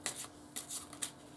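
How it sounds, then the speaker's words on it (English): A deck of fairly new playing cards is shuffled in a few quick riffling bursts, soft and close, with brief pauses between. "and then I would shuffle the cards."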